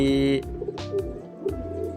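A racing pigeon at a loft in Tangerang gives soft repeated coos, close and clear, in short rounded phrases, with faint background voices.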